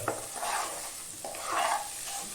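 Koorka (Chinese potato) stir-fry with onions being stirred in a pan, soft scraping strokes over a quiet sizzle, close and fairly faint, no talking.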